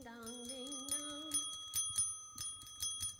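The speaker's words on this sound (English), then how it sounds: "Now I have my bell." A hand bell rings at a trivia night, a few bright dings repeating in a loose rhythm after a brief stretch of sung or hummed voice.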